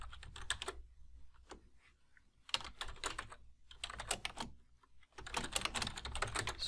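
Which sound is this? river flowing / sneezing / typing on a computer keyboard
typing on a computer keyboard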